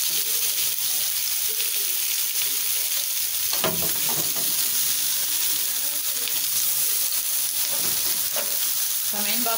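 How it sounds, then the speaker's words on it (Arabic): Food sizzling and spitting on a very hot pan or grill in a home kitchen, a steady loud frying hiss throughout with occasional sharper crackles and pops, no talking. "سامعين بقى الطشاشه بتاعت الشوي؟"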